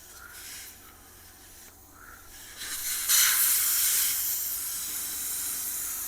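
Air hisses out of a Lifan KPT 400 tire valve in a steady, broadband rush that builds louder partway through and keeps streaming close by without a break.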